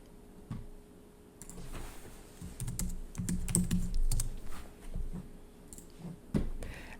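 Someone types a folder name on a computer keyboard, giving a burst of uneven keystroke clicks with short pauses between them, close and fairly quiet, and no talking.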